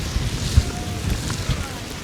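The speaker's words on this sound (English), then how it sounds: "It's certainly a bit windier than it was earlier." Gusty wind buffeting the microphone on a snowy Toronto street during the season's first snowfall on Spadina near Chinatown, a steady low rumble with a few sharper gusts and no speech.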